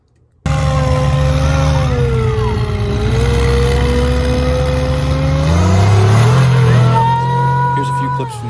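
A race truck with a 14 bolt axle runs its engine in a continuous loud growl, the pitch dipping and then climbing as it revs up, close and sustained over several seconds.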